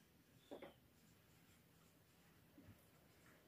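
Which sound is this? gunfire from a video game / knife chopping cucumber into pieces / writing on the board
writing on the board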